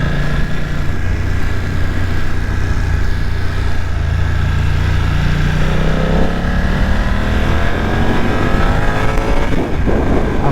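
A BMW F900R motorcycle in A2-restricted form accelerates steadily, its engine droning loud and close with rising pitch sweeps as it climbs through the revs for about ten seconds.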